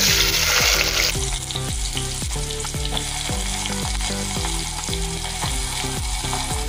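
Finely chopped onion frying in hot oil with shahjeera and cumin: a loud hiss as the onion goes in, settling into a steady sizzle with rhythmic stirring scrapes.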